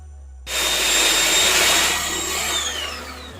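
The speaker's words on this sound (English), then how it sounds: "I'm going to mix butter and brown sugar now, and I'm going to completely cream it." Electric mixer creaming butter with brown sugar starts abruptly into a loud, steady whirring drone that holds for a few seconds, close by with no talking.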